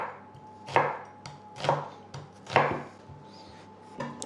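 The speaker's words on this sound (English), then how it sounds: "first thing I want to do is just chop these onions" Onions being chopped with a knife on a board, three firm, well-spaced cuts followed by lighter taps, close and clear against a quiet kitchen with no talking.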